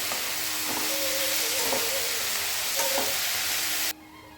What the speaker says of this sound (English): Add the peas and saute it further.